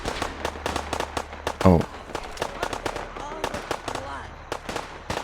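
Rapid bursts of gunfire crackle through a firefight outside in Fallout 4, sharp cracks repeating in an uneven rhythm with one louder burst, while a voice speaks briefly over the shooting.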